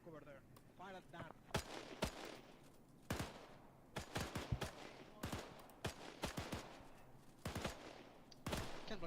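Sharp rifle shots at an outdoor WW2 British training reenactment crack out in irregular clusters, some single and some in quick doubles, with people talking between and over the firing.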